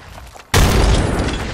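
Frag grenade going off in Apex Legends: after a quieter moment a sudden loud close boom bursts out and its rumbling roar sustains to the end.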